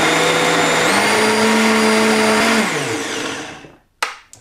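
A blender puréeing potato and broccoli soup, its motor whining loudly and steadily, rising in pitch once, then winding down to silence before a short clunk at the end.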